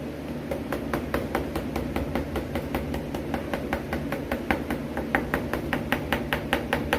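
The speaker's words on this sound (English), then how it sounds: "If you want to be a little more gentle, you can just kind of lightly tap it, and it'll give you a witness mark" A ball peen hammer lightly taps along the edge of an engine gasket to cut it, giving a steady run of quick, evenly spaced metallic clicks over a constant low hum in a workshop.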